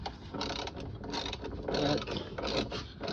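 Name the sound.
ratchet tightening rear shock bolts on 2004 Honda Pilot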